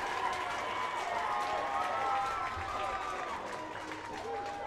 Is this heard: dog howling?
no